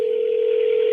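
A steady telephone dial tone sounds alone on a call-back attempt, a single continuous loud hum with no pauses or speech.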